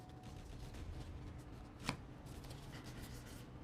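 Dropped playing cards from the board game Sleeping Gods are shuffled and sorted by hand, giving faint soft rustling and light card taps with one sharper snap midway, quiet and close with no talk.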